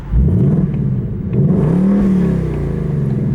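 A 2024 Ford Mustang GT V8 exhaust in track mode burbles and revs in short, loud bursts close by, rising and falling in pitch with a deep rumbling tone.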